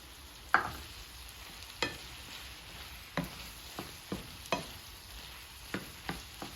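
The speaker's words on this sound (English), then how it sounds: "Now we are gonna mix well" Eggs, vegetables and cheese for a burrito filling are stirred in a pan, with a soft sizzle underneath and about a dozen sharp, scattered scrapes and taps of the utensil, close but fairly quiet.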